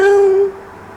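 A single cat meow, loud and close, sliding down in pitch over about half a second before fading into a quiet background.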